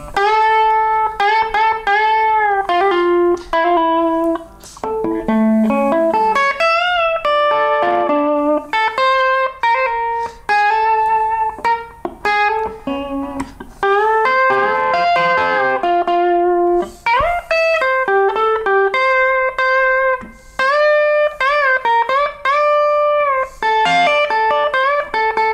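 Guitar plays the first big solo of a song, fast clean picked runs and bends in a continuous flowing line, close and loud with no talking.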